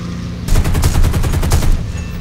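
A fast, loud burst of aircraft cannon and machine-gun fire in the War Thunder video game, a roughly regular stream of heavy shots lasting over a second over a constant engine drone.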